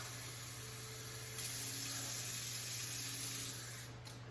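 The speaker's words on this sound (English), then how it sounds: "So we need 3/4 of a cup of hot water." Hot water run from a tap for pickling brine for red onions, a steady close hiss of flowing water that swells slightly midway, with a low hum beneath it.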